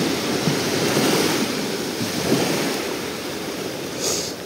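Sea waves wash onto the shore at a beach resort in Side, a loud close surge and hiss with wind buffeting the microphone and no voices.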